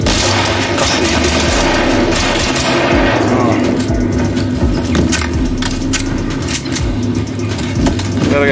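Rapid gunfire fills a session of the VR shooter Zerocaliber VR, dense bursts of loud, close shots crackling almost continuously, with speech present underneath.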